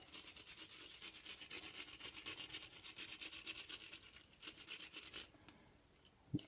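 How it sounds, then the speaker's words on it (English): A small brush scrubs and scrapes loosened deposits off a spark plug in rapid, steady back-and-forth strokes, close and fairly loud, stopping near the end. "so we can get everything that's been loosened scraped off"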